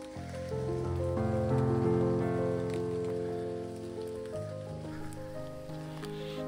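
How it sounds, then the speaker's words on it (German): Rain falls steadily on a tarp and tents at a campsite during a motorcycle trip on a Royal Enfield Himalayan along the Trans Euro Trail in France. The patter is continuous and soft under a steady tonal background. "Und wie ihr unschwer hören könnt, regnet es."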